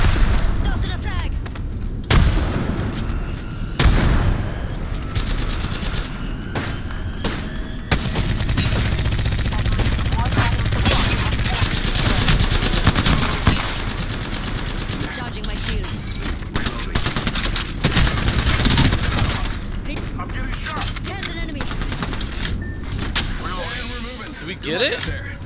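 Dense Halo video game combat: rapid gunfire, automatic bursts and booming frag grenade explosions fill the scene continuously and loudly, with game character voices calling out over the battle.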